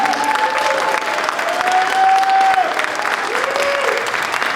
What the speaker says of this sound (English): I want you to give a big round of applause for Brother Brian Herring.